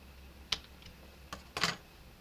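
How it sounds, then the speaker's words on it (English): A tissue slicer blade cuts through a polymer clay flower cane, giving a few short, faint crisp clicks and slicing ticks, the last one a brief cluster, in an otherwise quiet room. "I'm going to use that scrap clay that I used earlier to create a saddle to cut this using the tissue slicer"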